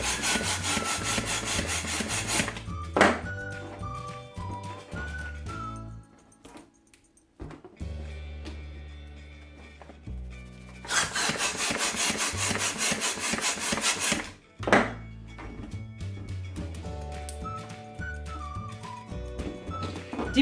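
Long rubber modelling balloons are twisted and rubbed in repeated bursts of squeaky, rasping friction, with high whistly squeals between the rubbing, up close and with no talk.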